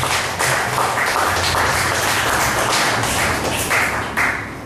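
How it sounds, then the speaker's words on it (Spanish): A church congregation applauds loudly, a dense and sustained wash of many hands clapping at once, strong and continuous from start to finish with no voice over it. "¿Cuánto puede dar un aplauso fuerte al Señor?"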